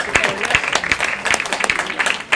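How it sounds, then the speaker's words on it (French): An audience at a peace conference in Lyon applauds, with steady, dense clapping from many hands filling the hall at a fairly loud level. "Vous pouvez les applaudir."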